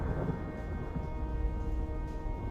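Heavy rain hisses steadily while low thunder rumbles underneath, rolling on and off across the few seconds.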